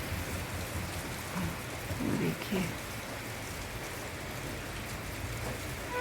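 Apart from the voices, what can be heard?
heavy rain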